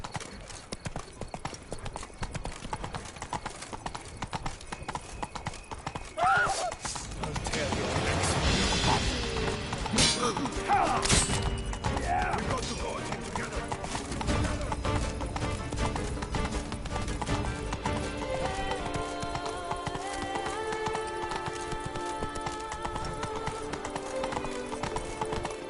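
A horse gallops in a PS4 video game, its hooves beating out a steady, fast clip-clop that runs through the whole stretch over a continuous bed of game ambience.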